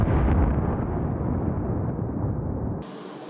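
An anti-tank mine explodes beneath a truck in a military minefield demonstration, a heavy booming blast with deep rumble that slowly fades over a few seconds before cutting off abruptly.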